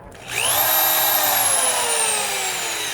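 An electric hand drill spins up after being plugged in, its motor whine rising quickly to a steady high pitch and holding loud and close, with the tone sagging slightly as pressure goes onto the bit.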